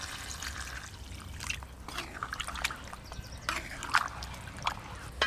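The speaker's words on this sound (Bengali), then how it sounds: "এবার জল দিয়ে দেব।" Water poured into a pot of mild, thin goat-mutton curry, a faint trickling and dripping with a few soft splashes over low kitchen background noise.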